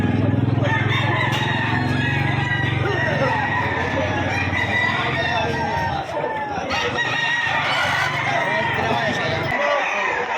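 Roosters crowing and hens clucking at a chicken market, several overlapping calls loud and close, with people talking in the bustle around them.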